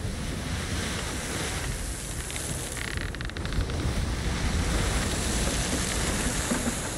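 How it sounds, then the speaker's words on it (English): Rough open-sea waves surge and wash around a sailing ship in the Sea of Thieves video game, with gusting wind buffeting the scene, a constant loud roar that swells slightly toward the end, with no voices. "Water's so rough."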